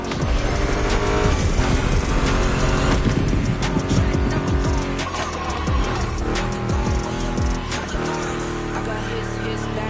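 Ford Mustang GT muscle car engine in the racing game The Crew Motorfest, loud revving with rising and falling pitch sweeps, tire squeal and a steady music track playing over the engine.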